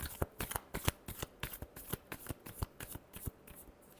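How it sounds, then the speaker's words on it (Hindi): Tarot cards shuffled in quick, evenly spaced riffles and slaps, close but quiet, with no talk over them. "लास्ट शफल चलिए देखते हैं।"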